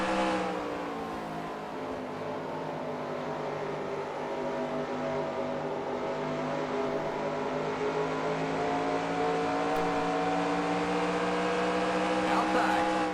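A race car engine in NASCAR Racing 2003 at Dover drones continuously at high revs, a steady loud whine that climbs slightly in pitch over the run, with no talking over it.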